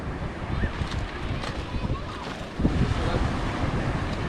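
Sea waves wash onto a beach where children play in the water, a broad continuous surf roar mixed with wind buffeting the microphone, a louder swell rolling in partway through.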